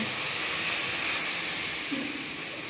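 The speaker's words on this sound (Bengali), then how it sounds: "এর মধ্যে এবার একটু গরম জল ফেলে দিচ্ছি" Hot water poured into a pan of simmering vegetable curry, a steady close hiss and steam rush throughout with a faint splash near the end.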